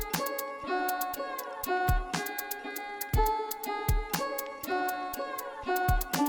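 A looping electronic beat from a Studio One step sequencer layers a sharp clap over a snare hit on recurring steps, with kick thumps and tonal synth notes in a busy, repeating pattern.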